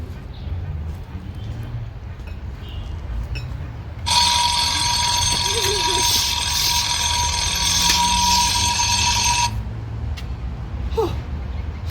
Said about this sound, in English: Who put an alarm there?